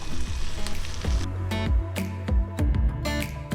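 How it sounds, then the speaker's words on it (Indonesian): Grasshoppers stir-fried in a pan with spices, with an irregular sizzle under scraping and tossing sounds and low background clatter; no talk. "Tumis belalangnya mau kasih daun jeruk biar tambah wangi"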